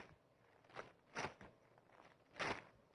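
Paper being folded closed, giving three separate dry crackling rustles with short pauses between them, close and fairly quiet, with no talking.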